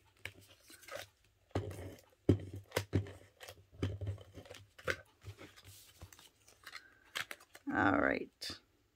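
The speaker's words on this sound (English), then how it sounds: "you can either take your snips or your cutter and take off that remainder" Scraps of paper trimmed off a Christmas card with snips or a cutter, heard as a series of quiet, sharp snips and crunchy cuts at irregular intervals, close up in a quiet room.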